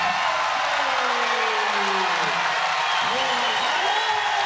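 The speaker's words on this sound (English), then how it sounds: "And the crowd goes wild." A packed arena crowd at a 2011 Hawai'i versus Stanford college volleyball match roars and applauds in a dense, steady wash of noise that stays loud for the whole stretch.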